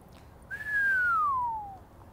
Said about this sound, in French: Siffle comme ça.